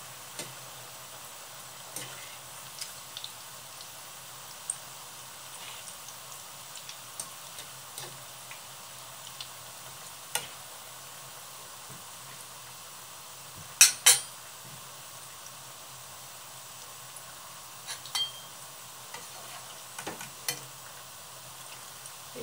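Potato meatballs fry softly in oil, a quiet steady sizzle dotted with sparse sharp clicks and taps as a fork turns them, a brief louder clatter midway, no talking.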